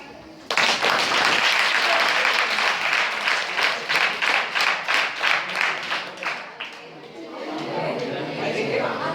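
Audience bursts into loud applause, then shifts into a run of rhythmic, evenly spaced big group claps before fading into chatter and speech.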